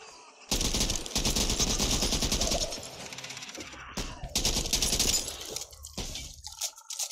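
Rifle gunfire in Back 4 Blood: a loud, close burst of rapid automatic shots runs for a few seconds, then tapers into scattered single cracks with short pauses and ringing echoes.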